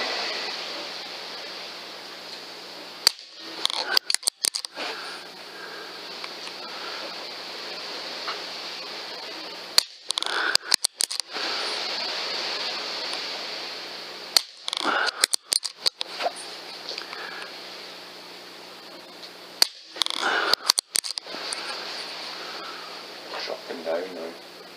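An Air Arms S410 Classic air rifle fitted with a regulator is fired at a paper target, four sharp shots spaced several seconds apart, each followed by quick clicking bolt-cycling sounds over a steady hiss of background noise.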